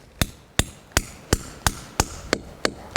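A metal sap tap being hammered into a maple tree in a sugar bush: eight sharp, close wooden thuds at a steady, even rhythm, with no talking.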